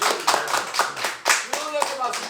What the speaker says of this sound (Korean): 우리 저 바운스님만 계속 박수가 나와